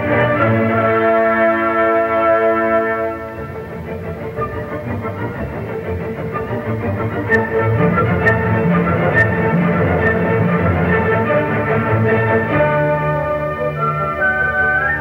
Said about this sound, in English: That's the noise of the proton singing.